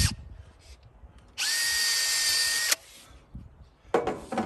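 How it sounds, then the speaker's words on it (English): A power drill with a 1/8 inch bit pre-drills exterior window trim on a mobile home, giving one steady, close whine of about a second and a half, with quiet handling noises around it. "1/8" bit when you're pre-drilling."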